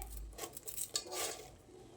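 Homemade fine sev and puffed rice are tossed together in a bowl, making a quiet, close rustle with light scraping and clinks of a spoon against the bowl.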